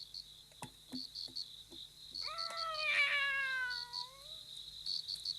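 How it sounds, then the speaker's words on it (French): A cat meows once in a long, drawn-out call that rises and then falls, close and clear. Soft chirping in the background sounds like crickets or insects, and a few faint taps come just before the cat. "Miaou. Miaou."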